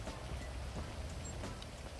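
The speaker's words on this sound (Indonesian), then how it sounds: "Ini hujan gede banget ya di luar ya." Heavy rain falls outside in GTA 5, a dense, constant hiss of drops with scattered patters, faint and steady throughout.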